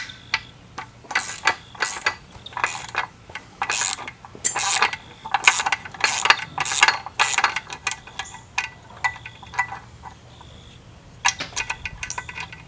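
A 1/2 inch ratchet clicks in repeated bursts of pawl ticks while loosening the anode on a 1999 Mercury 200 EFI outboard lower unit, close and crisp with brief pauses between strokes and no talking.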